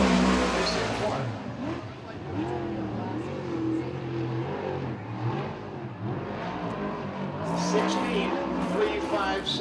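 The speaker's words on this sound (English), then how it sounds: "Hicks makes his way out for the first of two laps for the number 66 Jay Hicks out of Tulare, California, in the Tom Roberts Design Barn System." A USAC/CRA sprint car, a Stinger chassis at Tulare, California, roars through a qualifying lap, its engine note rising and falling as it passes around the track, with a track announcer talking over it.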